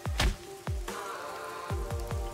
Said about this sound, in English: It's gonna rain all day today, tomorrow, and every day after that.